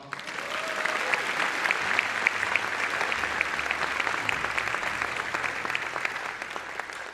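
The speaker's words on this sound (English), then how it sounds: "About another round of applause for Rob." Concert audience at a band performance gives a steady round of applause, dense clapping at moderate distance with no talk over it.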